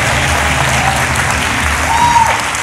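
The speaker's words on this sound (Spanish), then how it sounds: "Aplausos para Francisco." Audience applause fills a live stand-up comedy show at Centro Mori Recoleta, a steady dense wash of clapping from a crowd that stays loud throughout, with a brief whistle-like tone near the end.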